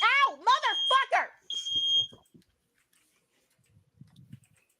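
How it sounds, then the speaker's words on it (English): A short, high electronic beep from a smoke alarm sounds once after a voice speaks. Faint murmurs follow in a quiet room. "sound of the fire alarm"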